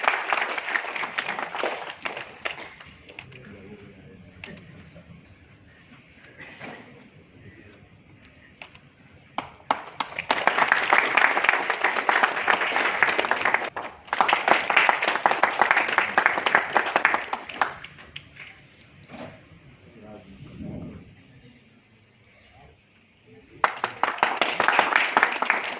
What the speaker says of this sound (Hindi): आप लोग ताली बजा सकते